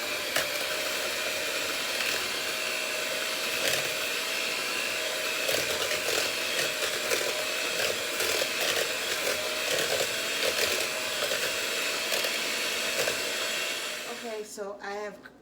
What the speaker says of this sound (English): Now I'm going to give that a mix and cream it all together.